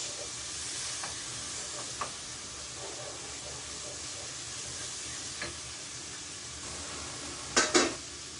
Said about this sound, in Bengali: তারপরে মাছের মাথাটাকে একটু ভাজে নিচ্ছি